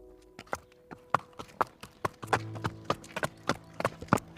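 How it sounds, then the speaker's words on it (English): A horse's hooves clip-clop in a steady, regular rhythm of sharp distinct strikes, fairly close and clear, with a low hum running underneath and no voices. "Had they heard it, the horse hoofs ringing clear?"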